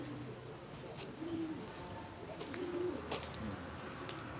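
Pigeons cooing in a loft, with soft, low rolling coos repeating a few times against quiet background noise and faint chirps.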